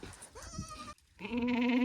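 A young goat bleats twice, close by, the second call a long wavering cry after a brief pause.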